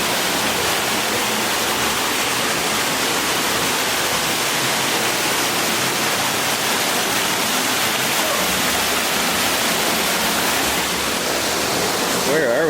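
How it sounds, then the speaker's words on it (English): A waterfall in the Subway canyon on a Utah road trip roars as a loud, unbroken broadband rush of falling water, close and steady for the whole stretch. "a cool waterfall."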